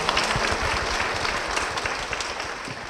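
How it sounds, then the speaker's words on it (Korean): Audience applause in a church as a deacon is welcomed to the stage, steady dense clapping throughout, moderately loud with no voices. "박수로 모시겠습니다"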